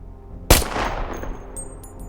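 A single sharp pistol shot firing a .38 ACP round on a rifle range in the World War II shooter Enlisted, loud and close, followed by a lingering rumbling tail and faint metallic ticks.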